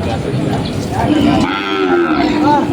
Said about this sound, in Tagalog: Mga Toreteng baka.